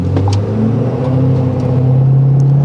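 Tuned Ford 6.7L Powerstroke diesel pickup pulling away from a stop at half throttle, a loud, steady rising engine drone heard from inside the cab.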